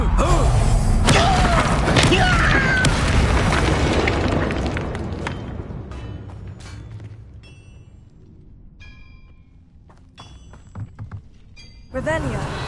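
A Bombarda spell detonates in Hogwarts Legacy on PS5: a heavy, booming blast with dense thuds that fade into a quieter tail, then a second sharp burst near the end, with voices and game sounds in the mix.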